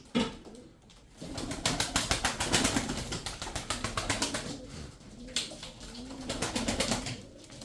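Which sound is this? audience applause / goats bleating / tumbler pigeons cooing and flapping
tumbler pigeons cooing and flapping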